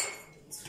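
Metal spoon clinking against a bowl while stirring a garlic and vinegar marinade for liver, a brief faint chink and scrape close by.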